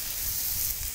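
Cheeseburger patties sizzle inside an Ooni Koda 16 outdoor pizza oven, a steady close hiss of frying fat with a faint low rumble beneath, unbroken and even in level.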